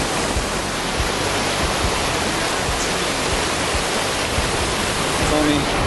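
A swollen mountain stream running deep enough to reach the thighs, its water rushing and roaring in a loud, continuous wash that fills the whole moment at close range.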